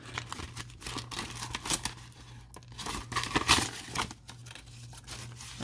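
Tape tearing and crinkling inside an opened mail package of cards, several ragged rips and rustles up close with a steady low hum behind.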